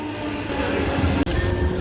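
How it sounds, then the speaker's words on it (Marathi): A local commuter train rumbles steadily close by as it pulls into the station, a continuous low mechanical roar with no voices. "इथं लोकल येणार आहे बघा।"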